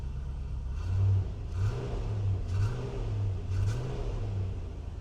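A 1995 Range Rover Classic engine catches and settles into a low idle, then revs up in four or five short throttle blips with a deep rumble between them, close by, with no talking.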